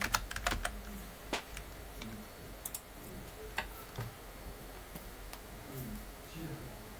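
Light typing on a computer keyboard comes in scattered quick clicks and short runs of keystrokes, faint and close in a quiet room.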